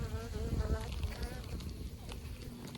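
Dense buzzing of many honeybees close by on a hive frame during an inspection, a continuous droning hum with wavering pitch, mixed with soft rustling and murmured voices in the background.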